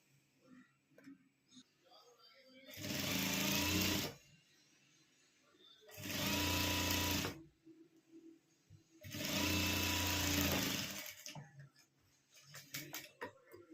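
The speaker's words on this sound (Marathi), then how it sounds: "याच्यावरती अशी टिप मारीत चालत आहे" A sewing machine stitches two layers of cloth while a doormat is made from scrap fabric, running in three steady bursts of rapid, close, loud whirring with quiet pauses in between.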